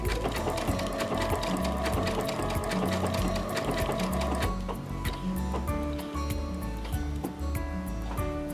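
A Baby Lock Crescendo sewing machine stitching steadily with a fast, even mechanical whir and rhythmic needle pulsing close by, and no talking.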